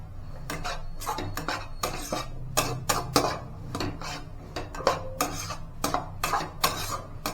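A spoon scrapes and clanks against a pan while stirring carrot curry with chili powder, making irregular metallic taps and scrapes over a low stove hum.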